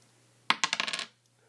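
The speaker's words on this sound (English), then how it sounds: "We're gonna roll the dice to see how many times." Dice tumble onto a hard surface during a 2014 Panini Prestige football card box break, a quick run of about seven sharp clattering bounces that slow and fade out within half a second, close and alone.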